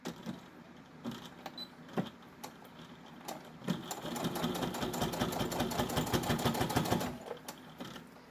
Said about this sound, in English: My machine is definitely working on here, because you've got several layers.